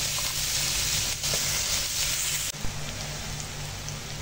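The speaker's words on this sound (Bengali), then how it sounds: "এবার ওই মাছ ভাজার তেলেই পেঁয়াজগুলো দিয়ে দিলাম" Chopped onions sizzle in hot oil previously used for frying fish, a steady, loud, close crackle throughout with a brief clatter midway.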